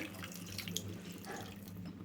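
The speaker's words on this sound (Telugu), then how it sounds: "ఒక గ్లాస్ అయితే వాటర్ పోసుకోవాలి" A medium-sized glass of water pours into a hot pan with wheat flour in it, a faint, short, steady splash and trickle heard close, no talk.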